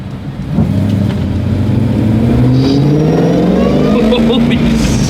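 A powerful car's engine revs hard under full acceleration, rising in pitch and staying loud and close throughout, with excited voices talking over it.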